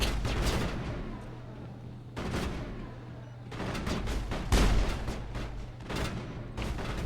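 Rapid bursts of gunfire from the video game Mass Effect 3 during a fight on the Citadel, loud repeated volleys separated by short gaps over about seven seconds, with no talk.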